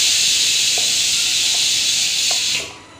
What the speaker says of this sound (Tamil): மிளகாத்தூள் கடுகு போட்டு தளித்து